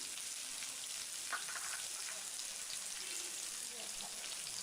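Chopped onions and green chillies fry in a pan with cumin seeds, making a faint, steady hiss of crackling oil throughout, with no voices.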